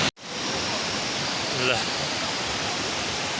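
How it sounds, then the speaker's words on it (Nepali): Himkhuwa Khola, a medium-sized mountain stream in Bhojpur, rushes in a steady broadband wash close to the microphone, with one brief interruption near the start and a short voice partway through. "हाम्रो हिमखुवा खोला चाहिँ यस्तो छ"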